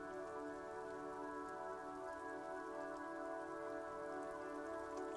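Rain falls steadily in Disco Elysium, a constant, even hiss of drops that carries through the whole stretch with no voices or breaks.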